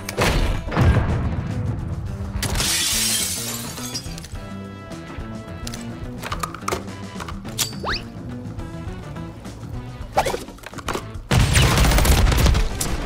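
Gunfire in a shooter video game, with loud bursts and rapid volleys at the start and again near the end, lighter shots scattered through the middle, no talk over it.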